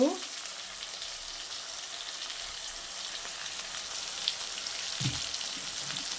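Onions fry in hot oil in a pan for a Bengali matar chicken curry, a steady close sizzle and crackle with a couple of brief stirring scrapes and no one talking.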